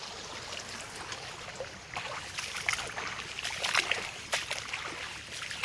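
Floodwater after heavy rain rushes across farm fields in a steady, close wash of flowing water with small splashes and gurgles, no voices over it.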